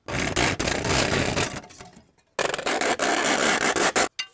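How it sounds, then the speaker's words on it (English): A hand saw cuts scrap metal clamped in a vise, loud rasping strokes in quick back-and-forth bursts, pausing briefly midway before the sawing resumes close and harsh. "This is how you saw things when you don't have a table vise."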